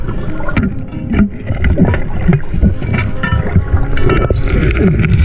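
Deep gravel is shifted underwater by foot fanning while sniping for gold in a stream. It makes a close, continuous churning rumble with gritty clatter and watery swishing, and nobody speaks.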